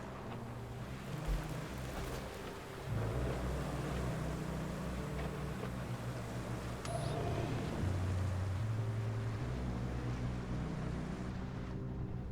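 A vehicle's engine floods in deep water in the Roadcraft game, a steady low rumble of water and motor churning continuously with a dip and shift in tone partway through.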